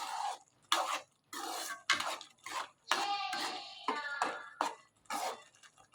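A spoon stirs mango pieces into sago payasa in a pot, giving a series of short, close scraping and clinking bursts with brief pauses between strokes.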